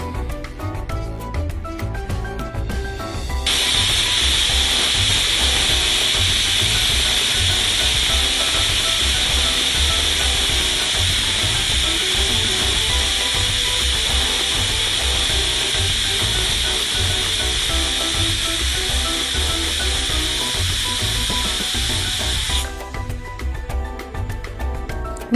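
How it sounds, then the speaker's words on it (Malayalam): A pressure cooker cooking chicken soup lets out a loud, steady steam whistle and hiss that runs unbroken for about twenty seconds, close and dominant, with quieter kitchen background before and after. "5-6 വിസിൽ വരുന്ന വരെ നല്ല രീതിയിൽ വേവിച്ചെടുക്കാം"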